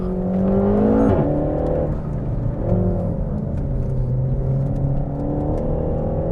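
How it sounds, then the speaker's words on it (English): A 300bhp RenaultSport Megane Trophy on a race track revs hard with a loud, raspy standard exhaust, pitch climbing and dropping through gear changes, close and continuous throughout. "Third, banging away. Standard exhaust on this as well."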